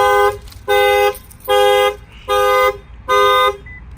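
Lexus car alarm set off by its shock sensor after the tire is struck, sounding five evenly spaced loud electronic honking tones with short pauses between, close and clear.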